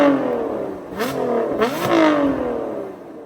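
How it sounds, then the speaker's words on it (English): A Lotus Emira's supercharged V6 engine revs hard several times, pitch sweeping up and down in loud, raw bursts with a high-pitched scream at the peaks. "Like, it's only a V6, but it really, really screams, and it's supercharged and no turbos"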